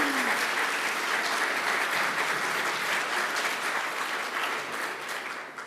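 An audience applauds award judges at the 2019 Rising Stars Awards ceremony, with dense, even clapping from a large crowd that runs steadily throughout and eases slightly toward the end.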